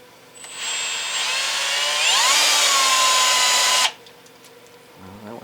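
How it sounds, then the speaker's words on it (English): An angle drill fitted with a polishing cloth on a 1966 Chevy Biscayne restoration whines up to speed, rising in pitch as it bites in, runs at a loud steady scream for a few seconds, then cuts off abruptly. "So we'll use our cloth and our almost perfect angle drill bit."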